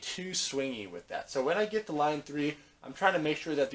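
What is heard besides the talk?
No distinct noise like a dog, phone or traffic.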